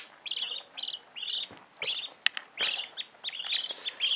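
Young budgerigar chicks, seven in a nest, chirping in quick repeated high-pitched cheeps, close and clear with brief pauses between bursts.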